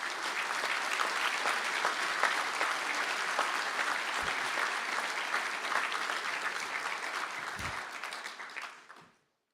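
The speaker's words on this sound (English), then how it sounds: "please stand up for the well-deserved round of applause" Graduates at a Galway engineering conferring ceremony receive a sustained round of applause from a large indoor audience, dense, even clapping that holds steady for several seconds before fading out.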